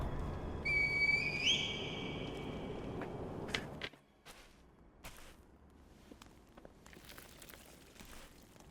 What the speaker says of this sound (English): Call the divine air with the reed whistle.